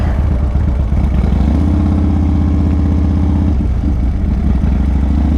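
A motorcycle engine runs loud and close while riding, with a throbbing mid-pitched drone and steady clattering rattle from the bike, rising and settling through the ride.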